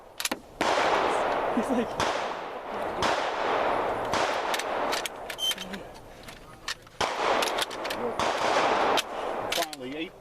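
Rapid gunshots ring out at an outdoor state forest shooting range, loud sharp cracks fired in quick bursts and single shots across the whole stretch, with people talking between them.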